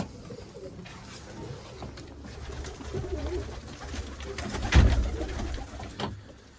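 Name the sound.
pigeons cooing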